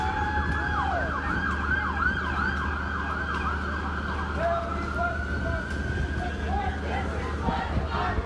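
Wailing emergency sirens cycle rapidly up and down over steady traffic noise at a street protest in Topeka, fairly prominent, with a second siren tone layered in and a voice faintly audible.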